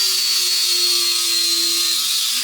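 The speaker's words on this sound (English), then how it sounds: "I think we can just grind it off." A power grinder steadily grinds engraving off a metal rail, a loud, sustained high whine with a steady tone that cuts off abruptly at the end.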